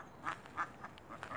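Ducks quacking near a goose nest where a goose has laid her first eggs, with several short, moderately faint quacks coming in a loose, irregular series and no talk.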